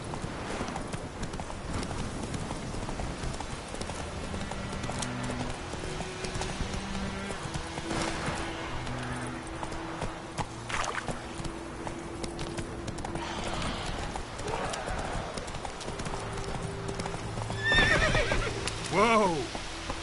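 Roach, a horse in The Witcher 3, gallops in a quick, rhythmic clip-clop of hooves, with a sharp neigh near the end and voices talking over it.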